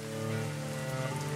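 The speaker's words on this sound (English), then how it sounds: "Wintry, rainy March, typical of England." Steady rain falling in the Manor Lords medieval village-building video game, a continuous dense hiss with a low hum underneath, close and even throughout.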